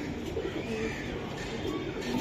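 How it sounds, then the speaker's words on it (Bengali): Soft, low cooing of a Giribaz pigeon repeats through a steady background hum, with a few faint murmurs of voices mixed in. "এই যে দেখেন খুবই সুন্দর কবুতর আমি দেখাইলাম"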